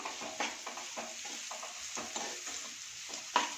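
Onions frying in a pan for a veg momo filling, a steady close sizzle broken by repeated scraping stir strokes and one sharper clack near the end, with no talking.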